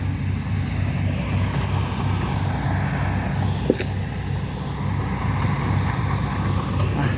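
A tractor engine chugs steadily at close range, its low rumble constant throughout with one brief sharp knock midway.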